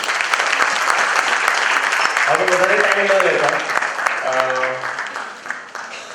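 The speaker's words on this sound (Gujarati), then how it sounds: "ઉમાશંકર અને એમની આખી ટીમને આપણે જોરદાર તાળીઓથી વધાવીએ" An audience at a literature festival applauds the organizers, with loud, sustained clapping throughout that fades slightly toward the end, while someone speaks and a short musical tone sounds over it.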